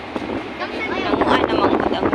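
Outdoor wind gusts and buffets the microphone in a roaring rush that builds over a couple of seconds, with a faint voice underneath.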